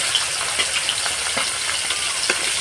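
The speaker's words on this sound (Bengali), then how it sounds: "আমি কই মাছগুলো অল্প করে একটু ভেজে নেব" Koi fish frying in mustard oil in a pan, a steady close sizzle with soft crackles and bubbling, with no talking.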